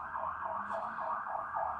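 A wailing ambulance siren rises and falls steadily in repeated cycles, moderately loud and continuous, with no voices over it.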